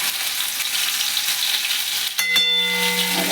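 Ginger and green chilli paste fries in hot oil with sugar for a stuffed potato curry filling, giving a loud, continuous close sizzle, then a sharp metallic clink that leaves a ringing tone as the frying goes on.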